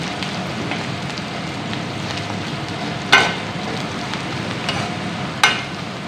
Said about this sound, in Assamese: ইয়াত এইখিনি ভালকৈ লৰাই দিম